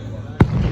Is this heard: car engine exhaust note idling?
no